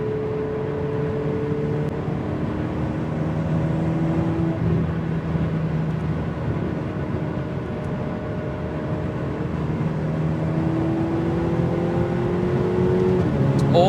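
Ferrari 488 Pista supercar in race mode accelerating hard, engine note climbing in rising tones broken by quick, aggressive gear shifts, heard from inside the car with a voice occasionally over it.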